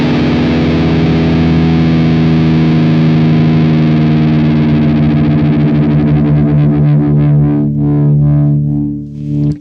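Electric guitar strings struck together and left ringing while tuning from standard E toward drop D, heavily processed with distortion and chorus, one loud sustained chord that slowly decays, with beating between the strings, close and alone.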